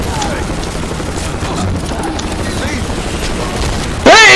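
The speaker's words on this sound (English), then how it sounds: "mass explosion!" Explosions and gunfire rumble dense and loud in The Expendables 2 video game, a continuous battle wash that ends in a sudden sharp burst, with a player's voice partly over it.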